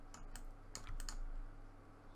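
A handful of quick, faint key clicks on a computer keyboard come in two short bursts in a quiet room, with no voices.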